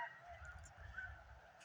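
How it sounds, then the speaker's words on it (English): Geese and waterfowl honking at an observation deck on a national wildlife refuge, snow geese and Canada geese among them, a faint distant chorus of overlapping honks. "There's tons of geese and waterfowl up here."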